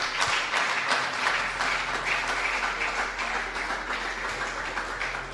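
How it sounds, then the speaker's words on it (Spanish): Church congregation applauding the Lord, a dense, continuous wash of many hands clapping, steady and moderately loud, with no voices. "¿Cuántos aplauden al Señor?"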